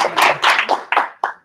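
A small audience claps briefly at a talk on refugees, a short burst of loud, close claps that fade out within about a second and a half.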